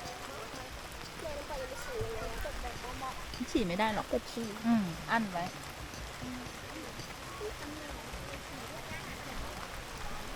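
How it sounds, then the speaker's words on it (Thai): Steady rain falls on a campsite during a downpour, a constant soft hiss throughout while someone speaks over it. "ตอนนี้ฝนตกค่ะฝนตกฝนตก"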